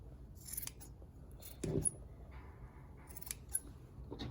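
Small scissors snip yarn to trim little pom-poms, several quiet, sharp close cuts spaced irregularly, with a soft rustle between snips.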